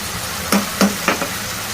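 Stirring and mixing ridge gourd curry with turmeric, salt, coriander powder and chili powder in a pan: three or four distinct scraping strokes, close and moderately loud, over a faint steady sizzle.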